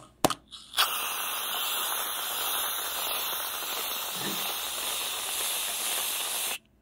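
After a couple of short clicks, a whipped cream can releases a long, steady, loud hissing spray that lasts about six seconds and then stops abruptly.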